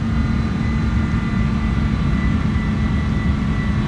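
Loud, steady roar of the Airbus A310 jet engines in Microsoft Flight Simulator, a constant low drone with faint high whining tones, close and unbroken, with no talking.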